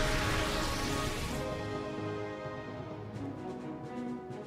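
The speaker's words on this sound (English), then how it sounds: "It's acid rain." Acid rain weather effect in the Pokémon XD video game, a dense, continuous hiss of falling rain that stays steady and fairly loud throughout, with faint clicks of drops near the end.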